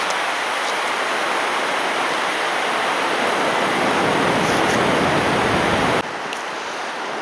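Waterfalls at Joffre Lakes in British Columbia roar in a steady, dense wash of falling water, loud and close throughout, easing slightly in level near the end.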